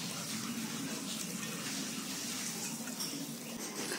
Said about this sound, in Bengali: এটাকে ভাতটাকে আমি ছেঁকে নিচ্ছি